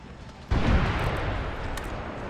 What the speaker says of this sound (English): Another bomb went off.